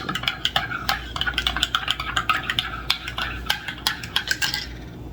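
A utensil stirs pancake batter with sugar in a bowl, giving a quick run of sharp scraping clicks at an uneven, busy rhythm. The sound is close, with no voices over it.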